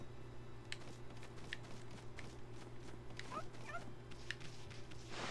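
A dog in the video game Okami HD gives faint yips and soft whimpers over a steady low game hum, with light pattering steps scattered through.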